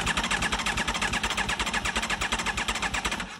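An Aprilia RSV4 motorcycle engine with an engine problem cranks and runs in a steady, loud pulsing rhythm close by, with no voices over it.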